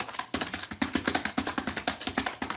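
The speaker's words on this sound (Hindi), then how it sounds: "तो ये मैं टाइपिंग स्टार्ट कर दी है।" Rapid, even keystrokes on a computer keyboard, typed at a steady beginner's typing-practice pace, close up and continuous with no talking.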